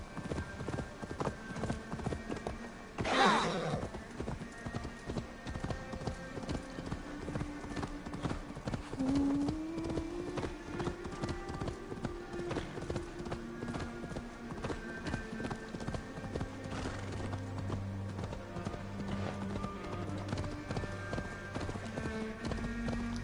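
Horse hooves clip-clop steadily in the Assassin's Creed Valhalla video game, a continuous rhythmic trot close by over game music, with a brief whinny near the start.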